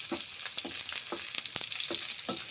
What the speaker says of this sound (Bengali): এইভাবে পটলগুলো আমি ভেজে নিচ্ছি, সর্ষের তেল দিয়ে ভেজে নিচ্ছি।